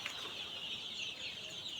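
Chickens on a poultry farm give faint, steady clucking against a constant background hiss, with no clear individual calls standing out.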